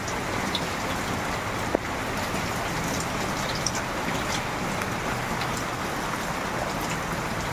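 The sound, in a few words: heavy rain falling during a typhoon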